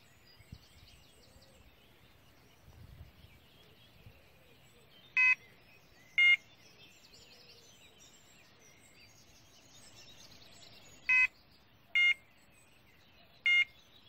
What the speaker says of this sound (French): Ça n'arrête pas de biper sur cette canne sans arrêt